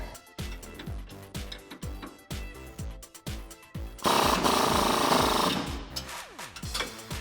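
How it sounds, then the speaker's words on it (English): Wrench and socket work on the lower leaf spring bolts of a 2005-2021 Toyota Tacoma, heard as a run of sharp metallic ratchet clicks and knocks in short bursts, then a denser stretch of clattering metal, close by with no talk. "we're gonna start with the lower bolt with our 19mm socket and wrench. Go ahead and tighten it down."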